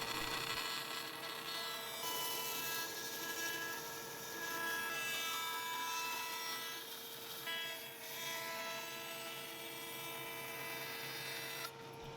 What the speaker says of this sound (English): So now I can set up the fence on the bandsaw and make a nice clean cut.